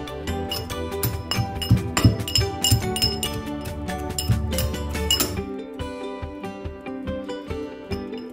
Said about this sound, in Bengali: তো রসুনগুলো আমি থেতো করে নিই।